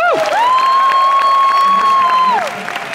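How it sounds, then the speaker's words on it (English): A comic con panel audience bursts into applause and cheering, many hands clapping beneath a loud sustained whoop or whistle-like cheer that holds steady before dropping away. "I wanted to maybe everybody give a round of applause."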